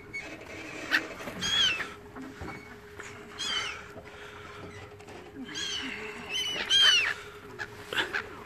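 Geese or ducks call with honking cries in snowy Giethoorn, the Netherlands, near a frozen canal, in a few short bursts heard amid outdoor noise and some talk.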